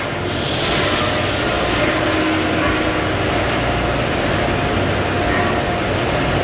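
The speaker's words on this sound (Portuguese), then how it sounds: "Olha só esse forno alta temperatura." Steady, loud industrial roar from a high-temperature heat treatment furnace for CNG gas cylinders in a large cylinder factory, a continuous broadband rush with no pauses and no voices.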